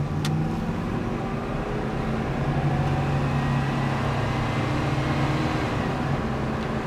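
A 1978 Chevrolet Corvette Pace Car with 3000 original miles drives on the road, its engine hum steady and close with a faint rise in pitch as the transmission shifts.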